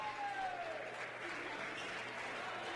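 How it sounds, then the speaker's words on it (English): A crowd at a high school basketball game between Triton Central and Covenant Christian applauds enthusiastically, with a broad wash of clapping that fades slightly toward the end and a faint whistle early on. "You see the crowd enthusiastic about the discipline from the Tigers"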